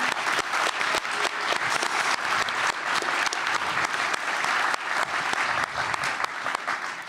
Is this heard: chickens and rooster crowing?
no